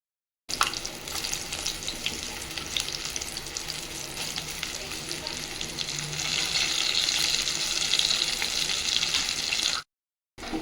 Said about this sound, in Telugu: ఇవి ఆయిల్లో వేయించుకుందాం